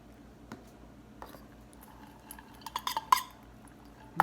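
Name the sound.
mixing remaining cheese with crème fraîche in a bowl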